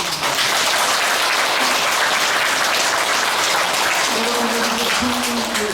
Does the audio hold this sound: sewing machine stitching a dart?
no